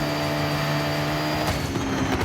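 Lamborghini Urus engine revving hard in Forza Horizon, a steady droning whine with sustained tones that shift in pitch partway through, constant and fairly quiet.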